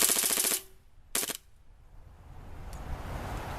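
A KWA MP7 airsoft gun converted to HPA (high-pressure air) with a mid-cap magazine fires on full auto, giving a rapid mechanical rattling burst, then a shorter second burst, then quiet background noise.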